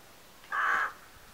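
A single crow caw, harsh and fairly close, rising clearly above a quiet outdoor background for about a third of a second, with nothing else following.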